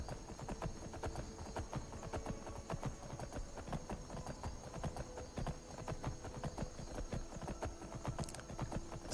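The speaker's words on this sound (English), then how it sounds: "Shadowmere is actually faster than most other horses in the game." Horse hooves clip-clop at a steady galloping rhythm in Skyrim, a fast black steed running continuously, close and moderately loud over a constant ambient game bed with no talk.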